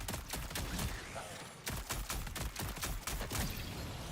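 Video game gunfire crackles faintly as a dense scatter of quick shots overlapping one another, a busy but quiet exchange of fire throughout.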